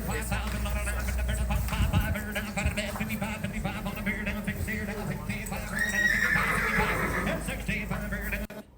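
An unsettled Clydesdale neighs loudly and repeatedly at a horse auction, whinnying over hoof clops and a busy crowd and announcer talking throughout, close and prominent until an abrupt cut at the end.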